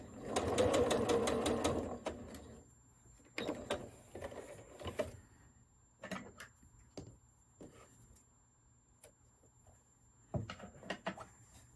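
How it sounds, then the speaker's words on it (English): Sewing machine stitching a curved quilt block of fabric, a fast close whirring run at the start, then shorter intermittent bursts of stitching with pauses and handling clicks between them. "I leave this pin in as long as I can. And then just keep sewing."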